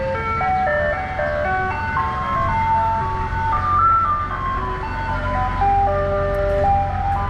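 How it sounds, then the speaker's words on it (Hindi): An ice cream truck plays its tinkling jingle melody in summer, loud and steady throughout over a low engine rumble. "ये देखें जी, समर आया हुआ है, आइसक्रीम की गाड़ी आई हुई है।"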